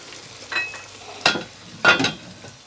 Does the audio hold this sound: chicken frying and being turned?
yes